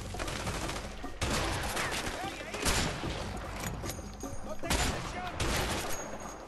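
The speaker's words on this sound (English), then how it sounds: "It's a shotgun, how am I missing?" Shotgun fire in the A Way Out video game, loud blasts mixed into a dense, noisy gunfight with overlapping shots and explosions, no clear isolated reports.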